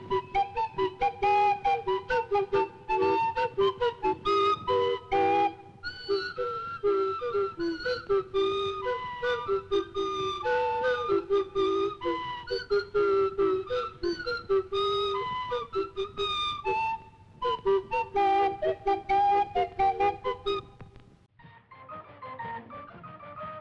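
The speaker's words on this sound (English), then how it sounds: "a steam calliope is impossible to keep in tune due to the thermal expansion of the brass whistle" A steam calliope with brass whistles plays a continuous tune of bright, piping notes at a show of steam-era machines, sounding loud and somewhat out of tune, with a brief break near the end.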